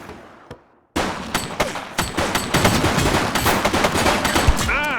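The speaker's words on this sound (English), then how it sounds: "He's shooting!" Rapid volleys of gunfire from the police video game The Precinct, after a near-silent opening second, with sharp cracks piling into a dense, loud fusillade that runs to the end.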